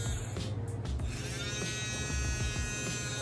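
Battery-powered handheld milk frother, running on two AA batteries, whirring steadily as it mixes matcha, a continuous close electric buzz with a faint hum throughout and no talking.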